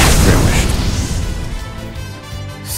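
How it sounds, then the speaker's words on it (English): A fire spell explodes in the video game Octopath Traveler II as a loud, close booming blast that rolls and fades over a few seconds, with voices heard alongside. "Feel my wrath! Fire. Burn."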